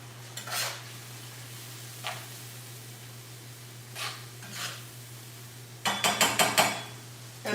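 A spoon scrapes and clinks against a cooking pot while a dish is stirred, a few scattered soft taps followed by a quick cluster of rattling strokes, over a steady low hum.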